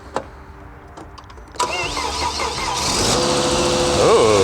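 A Volvo XC90 with a misfire starts after a jump start: a few faint clicks, then the starter cranks and the engine catches into a loud, close idle that rises with a brief rev.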